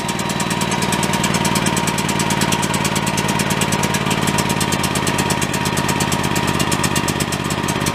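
A portable generator engine idles nearby with no load, a steady, fast pulsing chug, its level constant throughout with no voices.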